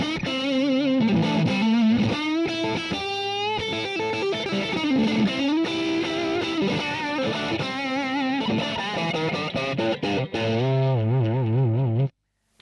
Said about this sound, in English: I'm plugged into the Rio Grande amp, okay?